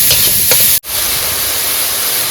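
Chopped garlic, ginger, onion and chili hitting hot oil in a pan on a boat, a loud continuous sizzle and hiss close up, briefly cut by a sharp gap before the frying resumes steadily.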